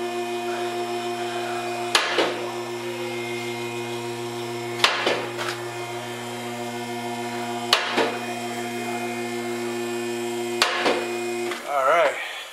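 Bolts being tightened during an independent rear suspension install on a 1993 Mustang notchback with a Coyote swap, four evenly spaced sharp ratchet or impact bursts over a steady electrical hum, then a brief wobbling whir at the end.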